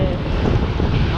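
Strong, steady wind buffeting the microphone while riding a motorbike through rain on a busy road, a continuous loud low roar with no break.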